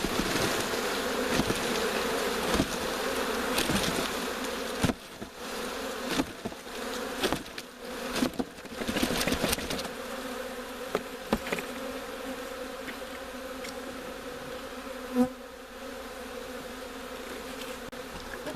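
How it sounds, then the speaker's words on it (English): A honeybee swarm being shaken from a box into a hive, giving a continuous, close buzzing drone with a few louder thumps and bumps along the way. "the majority of the bees are in the box, and I'll just shake those into the hive"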